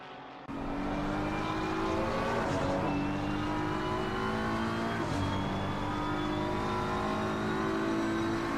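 Sim-racing cars at Bathurst circuit, with the Mantini Motorsports car chasing the Braun GP car: a steady, loud, high-pitched engine drone with overlapping whining tones that climb through gear changes, continuous and close.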